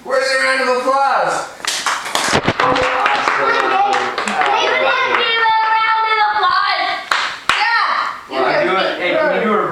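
Indoors at home, a short burst of hand claps is mixed into excited talking and a voice, the claps sharp and close but intermittent beneath the chatter.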